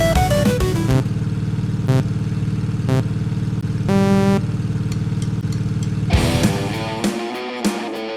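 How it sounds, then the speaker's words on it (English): A quad bike on a field ride in Senegal, its engine running loud and close with a steady throbbing drone and rising revs, ending in a burst of clatter as it cuts out. "we decided to do it in the most fun way possible, a 2-hour quad ride in the fields"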